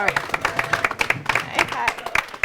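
Studio audience applause and cheering at a prize wheel spin for a charity dream home giveaway, loud, close and steady clapping throughout.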